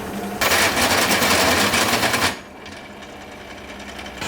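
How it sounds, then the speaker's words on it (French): A homemade drilling tool grinds into a material that is not wood, a loud, rapid buzzing rattle lasting about two seconds before cutting off, leaving a quieter background hum. "J'ai fabriqué un outil pour percer un truc."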